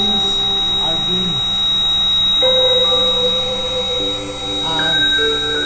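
A continuous shrill electronic buzz comes from the alarm buzzer on a smart high-visibility warning vest, sustained unbroken over several seconds as someone speaks nearby.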